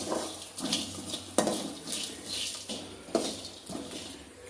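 Grated coconut and ingredients sautéing in a pan for a savory Tamil rice-flour dumpling dish, with soft sizzling and repeated scraping strokes of a metal spoon against the pan at close range, no voices.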